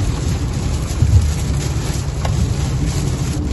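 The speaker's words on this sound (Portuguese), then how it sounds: "Nossa, mas é chuva." Rain drums steadily on a moving pickup truck, a constant close hiss over the low rumble of the vehicle, with no talking.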